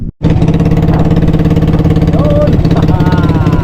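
A boat's motor runs steadily and loud from start to finish, a continuous rumbling drone with a rapid regular pulse, after a brief silent instant at the very start; a voice speaks over it.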